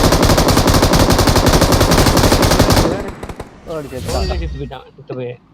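Dense, rapid machine-gun fire from a mobile shooting video game plays on iPhone 15 for about three seconds, then cuts off, leaving scattered game effects and a voice speaking.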